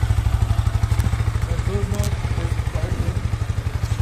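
Yamaha R15 M motorcycle engine idling and revving in neutral, a steady pulsing low thrum with a brief rise in pitch midway, close by, with faint background talk.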